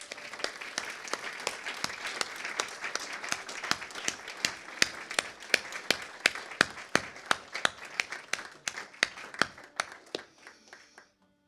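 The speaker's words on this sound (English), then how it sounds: "A round of applause for Malcolm, David and Ruth." A small audience claps steadily at a volunteer awards ceremony, with a dense run of loud, close handclaps that thins out and stops near the end.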